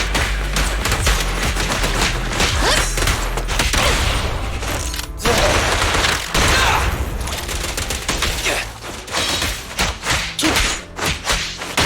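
Sustained rapid gunfire from a fire support assist in the Zenless Zone Zero video game, loud dense automatic bursts with heavy thumps running continuously and close, no talking.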